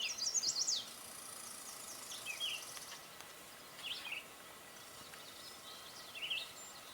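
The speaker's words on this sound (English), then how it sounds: "the birds have been a lot more active anyway" Faint, scattered bird chirps and short song phrases outdoors, separated by quiet gaps over a soft background hiss, with a few bursts near the start.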